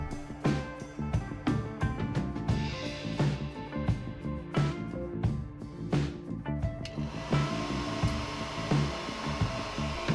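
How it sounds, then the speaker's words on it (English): A hair dryer blowing steadily to heat and soften a plastic piece, with repeated clicks and knocks of handling over its whir; the tone shifts partway through. "I'm going to have to start by hitting this piece with a hairdryer to soften up the plastic"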